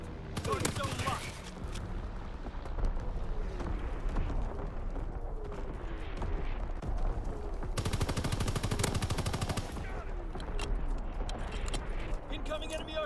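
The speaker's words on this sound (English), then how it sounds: "Incoming enemy artillery." Incoming artillery strike in a Call of Duty match: repeated heavy explosions and crackling blasts mixed with rapid gunfire, loud and dense throughout, with a long rumbling burst near the middle and scattered voices under the barrage.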